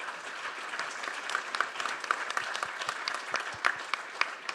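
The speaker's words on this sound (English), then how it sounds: "A big round of applause for our panel" Audience applause for a panel discussion on marine knowledge and ocean health, a steady dense patter of many hands clapping at moderate distance, holding evenly throughout with no talk over it.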